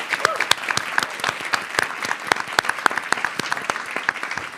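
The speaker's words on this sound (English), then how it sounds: "So let's give her a round of applause as well" An audience at a sky-themed lecture series claps together in a dense, lively round of applause, many hands close and distant, sustained for a few seconds without pause.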